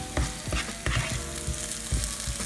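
Curry paste for a prawn curry stirred in a hot pan, a steady sizzle broken by several scraping spoon strokes at irregular intervals, close and fairly loud with no talking.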